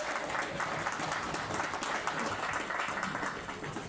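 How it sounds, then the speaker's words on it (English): A crowd at a farmers' rally breaks into steady, dense applause to welcome a sheep farmer to the stage, moderately distant and continuous throughout. "Let's give her a warm round of applause and good welcome."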